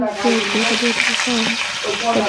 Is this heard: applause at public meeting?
no